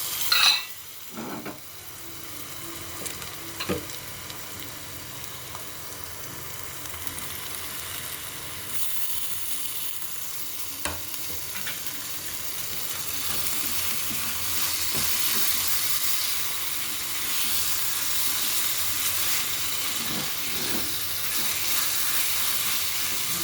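Chopped onion cooks in a covered pan on a stove kept on low heat, giving a soft, steady sizzle and hiss that grows slightly louder over time, with a few faint clicks and no talking.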